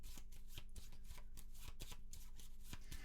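Cards for the Maquis board game are shuffled by hand in a quick run of crisp riffling flicks and taps, close and fairly quiet, with no talk.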